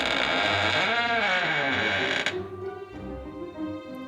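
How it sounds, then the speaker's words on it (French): A castle door creaks open with a long, wavering groan that rises and falls, followed by a lower rumbling creak as it settles, close and fairly loud with no voices. "La porte grince et s'ouvre légèrement."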